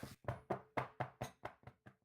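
A series of about ten sharp, hollow knocks in a steady rhythm as a soap mold filled with cold process soap is repeatedly banged down on a tabletop, gradually softening toward the end.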